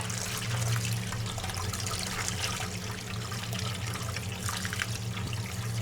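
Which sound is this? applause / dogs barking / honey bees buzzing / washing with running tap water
washing with running tap water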